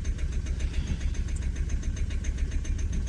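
A Renault Clio 3 1.5 dCi diesel engine idles with a rough, uneven stutter from an injector fault, its low throb pulsing irregularly rather than running smoothly.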